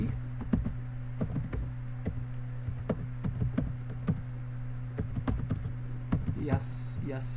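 Someone types a login and password on a computer keyboard, producing rapid irregular clicks close by over a steady low electrical hum, with a brief flurry of lighter taps near the end.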